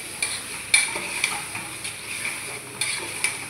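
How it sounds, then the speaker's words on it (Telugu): Masala spices, garam masala and coriander masala among them, stirred and mixed in a cooking pan for Mangalore-style mutton dalcha, with steady sizzling under a series of scraping stirs and light clinks from the spoon. "చూడండి ఫ్రెండ్స్, అన్ని మసాలాలు మిక్స్ చేసుకుంటున్నాడు"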